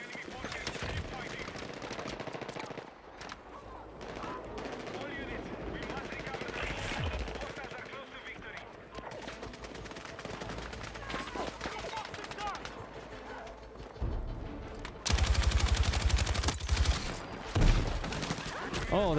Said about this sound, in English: I need to get in a better position with this machine gun.